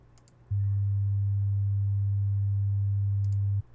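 A steady low-pitched 150 Hz sine test tone generated in Audacity sounds for about three seconds, starting and stopping abruptly, with faint clicks before and after.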